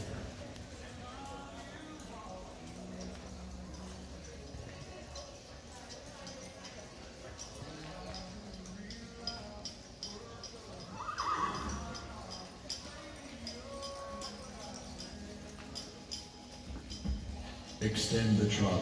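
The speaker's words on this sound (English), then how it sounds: "And trot your horses, please, at the trot." Quarter horses trot around a show arena during a ranch rail class, with soft hoof clops and an occasional whinny, while an announcer's voice carries over a background murmur.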